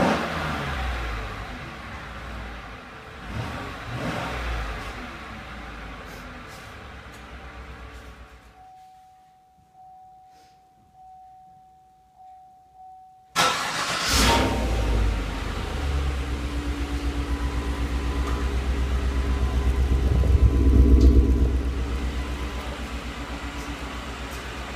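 A 2015 Chevy Silverado 1500 pickup with a 5.3L V8 runs nearby with a loud idle rumble, drops to quiet with a steady electronic tone, then fires up again and revs, swelling louder toward the end.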